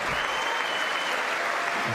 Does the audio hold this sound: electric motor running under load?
no